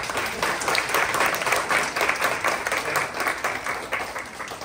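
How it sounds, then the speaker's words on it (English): An audience at a kids' taekwondo class claps steadily for the whole stretch, a dense, even patter of applause from a small crowd. "Let's give our second group a round of applause."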